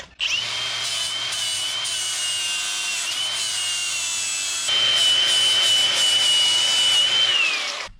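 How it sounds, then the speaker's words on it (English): A power tool grinds smooth the cut edge of a Jeep JK fender, a steady high whine running unbroken for about seven seconds and growing louder and harsher partway through before winding down, close and alone. "Just grind it down smooth."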